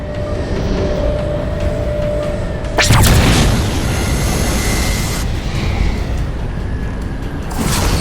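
A heavy blast strikes the Mammoth, a huge armored transport vehicle in Halo 4, landing as a sudden loud boom about three seconds in over a constant mechanical rumble, followed by crackling debris and a second burst near the end.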